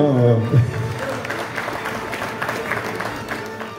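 Audience applause for an honorary prize winner at an international comic-book festival in a Valenciennes congress hall, a crowd clapping steadily after a brief voice at the start, moderately loud and sustained.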